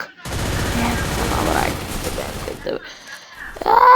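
Rapid automatic gunfire in a shooting video game, a dense loud burst lasting a few seconds, then a brief pause and a sharper sound, with excited players talking over it.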